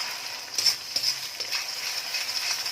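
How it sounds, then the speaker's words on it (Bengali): Eggs fry in a little oil in a wok for fried rice, giving a steady, soft, hissing sizzle with a few faint scrapes and no voices. "কড়াতে অল্প একটু তেল দিয়ে দিচ্ছি, দিয়ে ডিমটা আগে আমরা ভেজে নেব।"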